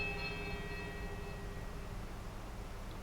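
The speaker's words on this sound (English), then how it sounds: "The bell's merry tolling sounds once more through the ruins." A small temple bell tolls in Pillars of Eternity, a single bright ringing strike with several sustained high overtones that fade gradually over a low steady rumble, heard alone.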